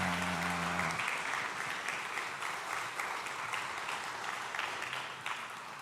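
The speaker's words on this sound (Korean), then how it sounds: "우리 다시 한번 큰 박수로 축복해 주시면 감사하겠습니다" Steady, sustained applause from a church congregation at an ordination and installation thanksgiving service, dense and even throughout after a brief musical tone fades in the opening second.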